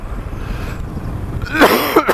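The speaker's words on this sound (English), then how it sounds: "Can't stop coughing." One harsh, close cough bursts out near the end, followed by a short second hack, over a low rumbling background of road noise.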